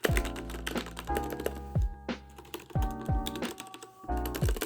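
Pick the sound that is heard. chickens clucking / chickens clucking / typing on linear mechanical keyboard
typing on linear mechanical keyboard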